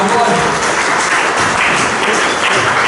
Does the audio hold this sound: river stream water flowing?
no